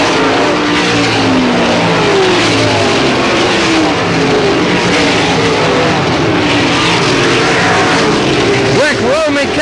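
Dirt track race cars roar around Selinsgrove Speedway in a continuous loud, rough engine drone that swells and fades as the pack passes, with a race announcer talking over it.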